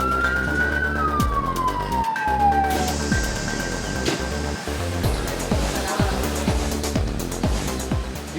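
A Miami Beach fire rescue vehicle siren wails loud and close, with a falling sweep followed by continuous rapid warbling over heavy engine and road rumble.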